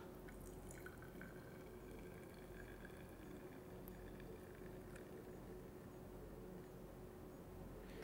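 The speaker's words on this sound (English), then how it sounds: "now we're gonna pour this into whatever bottle that you have found" A carbonated cocktail is poured into a bottle, heard as faint, steady fizzing with scattered drips and light glassy ticks over a low hum.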